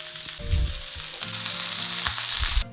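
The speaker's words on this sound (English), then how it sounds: "now just add oil and then just sear it on each side" Tied pork belly sears in hot oil, giving a loud, steady sizzle and hiss that swells as the meat settles in the pan, with low tonal hum and light clatter underneath.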